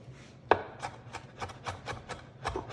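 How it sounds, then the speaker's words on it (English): A knife dices pepperoncini peppers into small chunks in a steady run of about eight crisp, close chops with short gaps between them, heard alone. "Dicing up these pepperoncinos while the bread's in the broiler."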